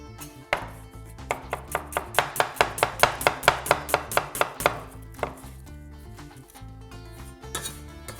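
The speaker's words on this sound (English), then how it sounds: "Everything for this dish needs to be finely sliced up." Rapid, steady knife chops on a board, finely slicing stir-fry ingredients, a quick run of sharp taps that speeds up, then a few scattered cuts trailing off.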